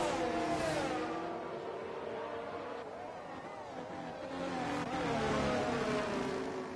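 Race car engines whine steadily in a racing video game at the Portimao circuit, the pitch rising and falling through shifts, with a sustained, fairly loud drone.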